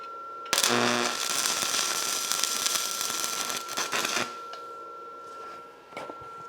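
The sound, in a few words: arc welding practice strikes on metal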